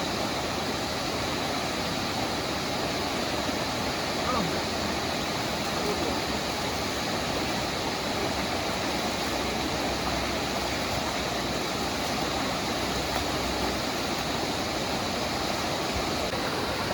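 Fast-flowing river water of the Manikka Ganga at Kathirkamam, rushing in a constant, dense roar that stays steady throughout with no voices.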